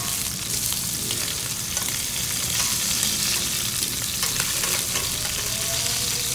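Monkfish on the bone and scallops searing in a hot pan, a loud continuous sizzle and crackle close up with no voices.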